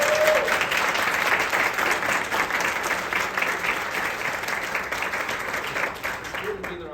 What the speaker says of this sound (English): I want a round of applause on that